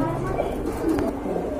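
Pigeons at a bird market coo softly and steadily amid crowd murmur, with a low throaty warble running through the short stretch.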